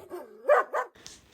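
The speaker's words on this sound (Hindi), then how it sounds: "तो इसने बहुत ज़्यादा भौंका, बहुत ज़्यादा भौंका।" A dog gives a short whining rise followed by two quick, close barks, then quiet.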